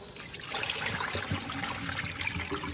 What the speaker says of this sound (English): Pour that water off